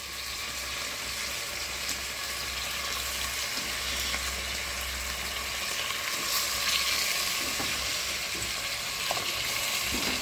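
Chicken pieces sauté in a hot pan for tinola, right after the aromatics are sautéed, giving a steady, fairly loud sizzle that runs unbroken for the whole stretch with no one speaking.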